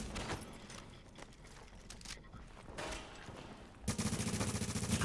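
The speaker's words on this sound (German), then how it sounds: "Oh, ich werde beschossen" Gunfire in the third-person shooter The Division: scattered shots and short bursts early on, then a rapid, loud automatic burst at the end, heard at moderate volume over background ambience.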